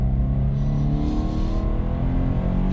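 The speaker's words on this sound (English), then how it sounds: "That's a second gear pull." A 2020 Toyota 86 Hakone Edition engine revs hard through a second gear pull at high altitude, a loud, close, droning in-cabin roar with rising harmonics and no talking.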